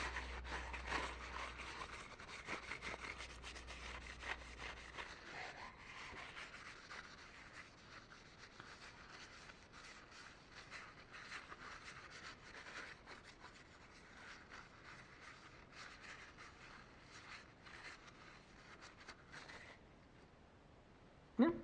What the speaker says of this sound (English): gently scrape out all the junk from this meeting surface